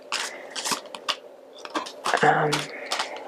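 Tarot cards are shuffled and drawn from the deck, making short papery riffles and flicks in a few quick bursts, close and fairly loud, with brief voice sounds in between.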